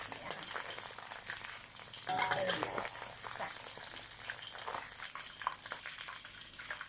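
Fermented fish fries in hot oil with a continuous crackling sizzle and occasional spattering pops, steady and close throughout.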